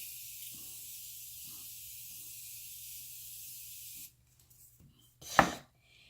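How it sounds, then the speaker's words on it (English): A steady, broad hiss of NYX setting spray misted onto a face runs for several seconds, then stops; after a short quiet, one brief louder spritz follows. "I spray my face with this."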